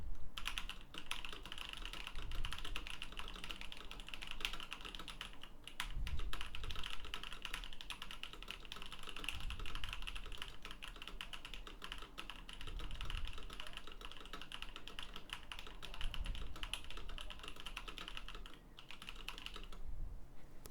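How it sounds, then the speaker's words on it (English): Steady, continuous typing on a computer keyboard, picked up through a dynamic microphone in a room, with rapid key clatter and occasional heavier thumps of the space bar, fairly faint and without talk. "Now I'm going to do a little bit of a typing test to see how well it rejects background noise."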